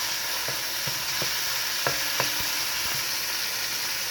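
Green onion and parsley cooking in a pan for a jute leaves soup, a steady sizzle with occasional scraping stirs and light knocks of a utensil, close and continuous without speech.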